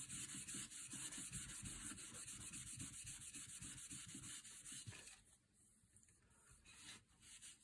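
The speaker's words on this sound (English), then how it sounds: "with a fine grit, I can just lightly sand that" Fine-grit sandpaper lightly worked over a wooden Beretta 690 shotgun stock, a close, steady scratchy rubbing in quick back-and-forth strokes that eases off briefly near the end before resuming.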